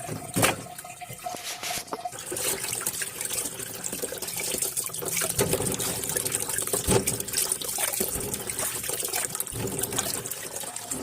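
Water splashes and trickles from a tap as potatoes are washed in a home kitchen, a continuous liquid rush broken by irregular sloshes and knocks, with no talking.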